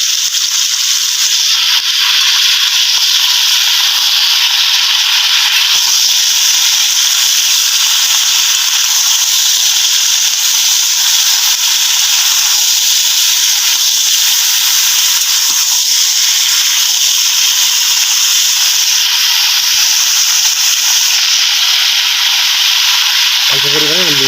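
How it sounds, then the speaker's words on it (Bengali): Vegetables and ivy gourd stalks frying in oil give a steady, continuous hiss that runs without break from start to finish, with no clear stirring strokes and only a faint low thump near the end. "দেখুন আমি সবজিগুলো ভাজতে দিয়েছি।"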